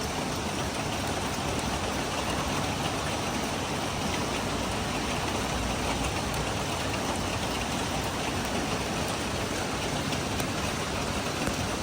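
Continuous rain pours down steadily, a dense even hiss of drops filling the space with no pauses or voices.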